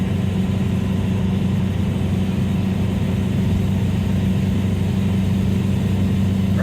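A Dodge Dakota with a swapped TDI diesel engine cruises steadily at road speed in freezing cold, its low engine drone and road rumble continuous and even from inside the cab.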